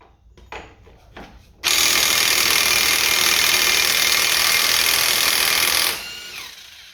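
DeWalt 18-volt cordless tool running on a 20-volt battery against the axle nut of a 1999 Jeep XJ, a loud steady whirring buzz held for about four seconds after a few light clicks, then winding down.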